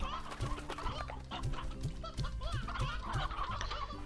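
Chickens cluck in the video game Slime Rancher, a string of short, repeated clucks over steady game music and background sound, with a voice faintly present.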